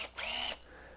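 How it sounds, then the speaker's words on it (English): A power driver spinning a hole punch, one short high-pitched whir lasting about a third of a second, close but fairly quiet. "I can put it in a drill, but I actually prefer to put it in a driver because it runs faster."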